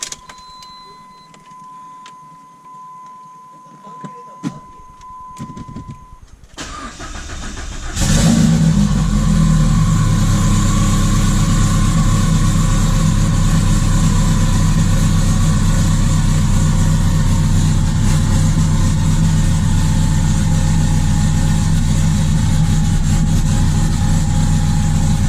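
A car engine cranks briefly with a starter whir, catches and fires up, then settles into a loud, steady idle that continues close by.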